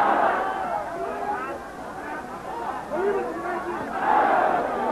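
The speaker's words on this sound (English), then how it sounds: "And the crowd chanting with that one. They're absolutely baying" A boxing crowd chants and bays loudly in an arena, a dense roar that swells at the start and again near the end, with the rise and fall of massed voices.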